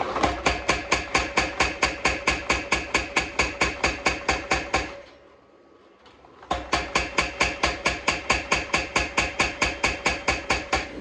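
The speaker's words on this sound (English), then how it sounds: "I'm going to the hammer as well to continue to thin out the blade" A power hammer pounds in a fast, steady rhythm of sharp metallic blows forging a Damascus steel kitchen knife blade, stops briefly for a couple of seconds, then resumes at the same pace.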